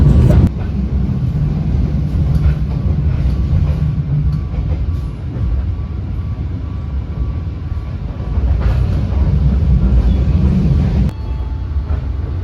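KA Pasundan New Gen passenger train running on the rails, heard as a steady loud rumble with rolling wheel clatter and occasional louder thumps, continuous throughout with no voices.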